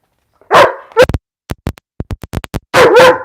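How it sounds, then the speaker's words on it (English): A pet dog barks and whimpers close by, wanting to play, with a loud opening bark, a run of short sharp clicks and yips, then a final drawn-out whining bark. "apparently I need to listen to my dog and play with him"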